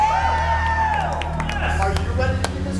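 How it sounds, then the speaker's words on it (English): A crowd at a live horror show claps, cheers and whoops in a round of applause for a performer, loud and continuous, with shouted voices mixed in. "Give her a round of applause."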